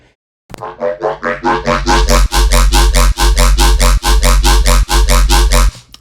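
A loud, pulsing synth sub bass line using only very low frequencies, rapid repeated notes in a driving riddim rhythm, distorted and upfront, playing alone.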